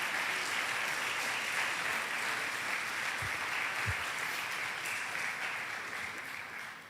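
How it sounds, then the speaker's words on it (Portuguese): A church congregation claps steadily, a broad wash of applause from many hands in a large room, with a couple of low thumps partway through. "Se você vai aplaudir, então pode aplaudir bem forte."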